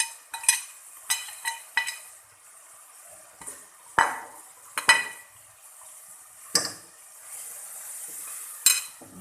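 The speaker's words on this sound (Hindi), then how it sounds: "तो जब हमने भून लिया थोड़ा सा" Minced meat and spinach with turmeric, garam masala, ground chili, garlic, ginger and salt being stirred in a pan, with repeated scraping and clattering stirs over a low, steady sizzle, close by.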